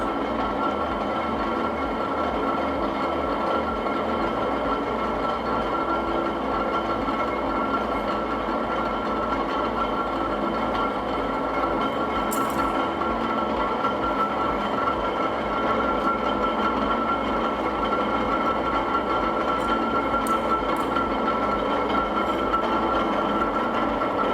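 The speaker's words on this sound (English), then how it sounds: "So machine is started." A laboratory rolling mill runs steadily, thinning metal stock between two rolls. It gives a loud, continuous mechanical drone with a rhythmic low thumping and occasional faint clicks.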